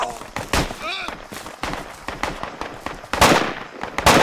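Sharp gunfire bursts in the military realism shooter Project Reality, close and loud, with several cracks and a longer volley near the end, mixed with voices talking over radio-style chatter.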